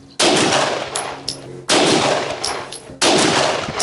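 Three loud, close gunshots firing abused Fiocchi 124 grain ball ammunition crack out alone at roughly even intervals, each followed by a short decaying echo.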